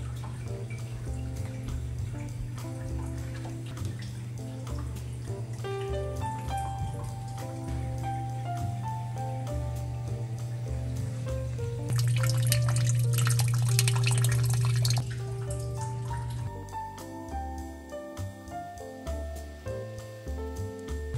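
Water trickles and drips steadily as it slowly fills a new 32-gallon BioCube saltwater reef aquarium, with a constant low pump hum and a brief louder splashing stretch midway.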